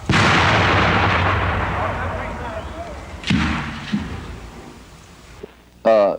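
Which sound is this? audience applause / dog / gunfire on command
gunfire on command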